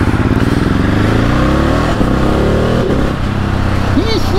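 Motorbike riding on a road, with a steady loud engine drone and shifting pitch as the bike accelerates, plus wind rush, while a voice talks over it.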